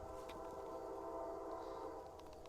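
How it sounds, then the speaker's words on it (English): Train on tracks close to a campground in Indiana, a steady, fairly faint rumble with a sustained horn-like tonal drone running throughout, distant and continuous with no voices. "there's train tracks relatively close by, so you get to hear train noises"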